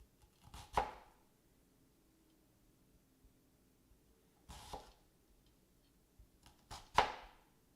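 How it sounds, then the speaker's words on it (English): Knife chopping onion on a cutting board for risotto, a few separate sharp thunks spaced out over several seconds, fairly faint, with no talking. "I'm going to go ahead and start mincing them"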